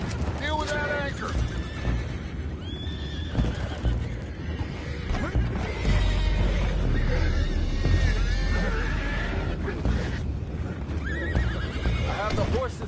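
Horses in the Red Dead Redemption 2 video game neigh and whinny repeatedly over clopping hooves and busy game ambience, with character voices speaking in between.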